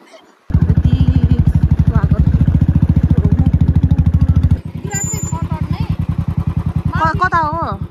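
A motorbike rides a bumpy rural road from Dang to Rolpa in Nepal, its close, loud engine chugging in rapid even pulses. The pulses soften slightly partway through, and a voice speaks near the end.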